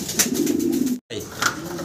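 Young Andalusian-coloured and black pigeons cooing close by, a continuous low rolling coo with a brief gap midway, surrounded by soft ambient chatter of other birds.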